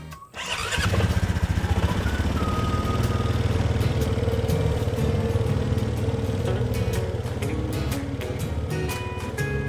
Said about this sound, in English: need another reason to ride the four-wheeler some more